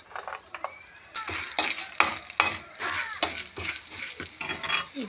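Chana dal, urad dal, mustard seeds and cumin crackle and sizzle in hot oil, with steady frying hiss broken by sharp pops and stirring scrapes, close and fairly loud.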